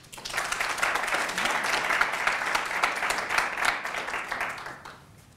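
An audience at a university lecture breaks into applause to welcome a speaker, a steady burst of many hands clapping for about five seconds before tapering off.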